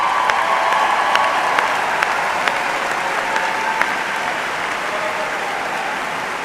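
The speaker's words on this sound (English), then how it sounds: "That's probably going to be the biggest applause for the day." A graduation ceremony crowd applauds at length, a thick sustained roar of clapping with a few sharper claps standing out, while a voice is faintly heard beneath it.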